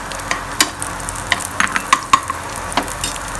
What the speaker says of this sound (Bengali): এই মা এখানে ভর্তা করার জন্য রসুন, কাঁচামরিচ, শুকনা মরিচ ভেজে নিতেছে